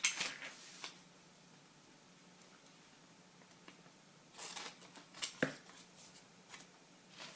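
Scissors snip into the corners of paper for a craft, with a few faint, scattered cuts and rustles, close and soft.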